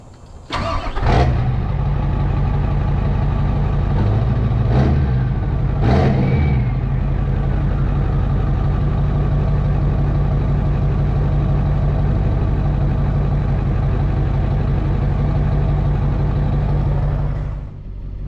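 A Ford F-450 truck engine starts with a few sharp cranks and then runs at a steady, loud, low idle with a rhythmic throb, close by, until it cuts off near the end.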